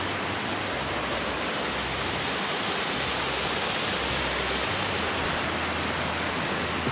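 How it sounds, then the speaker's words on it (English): The big waterfall on Alum Hollow Trail near Huntsville, Alabama roars as a steady, dense rush of falling water, loud and unbroken throughout. "Biggest waterfall I've ever seen."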